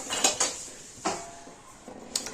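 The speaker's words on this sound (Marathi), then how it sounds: "थोडंसं तूप होतं कढईमध्ये त्यातच हे भाजत आहोत" Makhana (fox nuts) roast in a little ghee in a kadhai, stirred with a metal spoon that gives several light clinks and scrapes against the pan over a faint background hiss.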